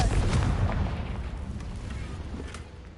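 Confringo explosion spell cast in a PS4 video game, a broadband blast burst at the start that rolls off into a fading rumble over about three seconds, with no talking.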